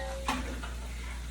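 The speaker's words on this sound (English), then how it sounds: "And now we're going to add our eggs." Eggs poured into a hot pan give a quick hiss that settles into a faint, steady sizzle.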